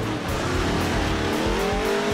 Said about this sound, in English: Even with 500 horsepower and custom tires, the buggies struggle for grip.